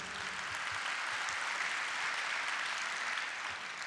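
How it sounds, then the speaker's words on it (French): Continuous audience applause at an evening awards ceremony honouring laureates, a steady, even wash of many hands clapping at moderate level for several seconds with no talking. "vous pouvez les applaudir"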